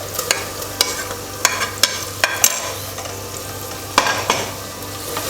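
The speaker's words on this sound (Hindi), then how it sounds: "प्याज हल्का हल्का भूनना शुरू हो गया है, हम इसको भून रहे हैं, हल्का इस तरह फ्राई हो रहा है" Onions fry in a pan with ginger garlic paste for street-style Lahori chikar cholay, a constant close sizzle punctuated by sharp clicks and scrapes of a spoon stirring against the pan.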